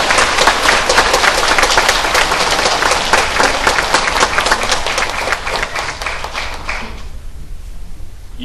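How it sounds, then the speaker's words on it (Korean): Audience applause for a chairwoman at a briefing on compensation for Pacific War victims: a loud, dense wash of many hands clapping steadily for about seven seconds, then thinning and fading out quickly. "우리 양순희 회장님과 박수 한번 주세요."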